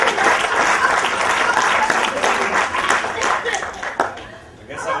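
Wedding guests at Miacomet on Nantucket applaud steadily for a best-man-style speaker, a dense wash of clapping that thins out near the end, with scattered voices and cheers mixed in.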